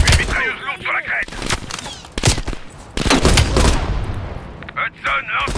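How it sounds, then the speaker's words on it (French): Heavy machine gun fire from a ridge in the shooter Call of Duty Black Ops Cold War crackles in dense, loud bursts mixed with explosions and battle noise, while voices talk over the action. "Attention, une mitrailleuse lourde sur la crête."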